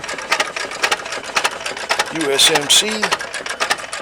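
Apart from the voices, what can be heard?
1911 farm engine running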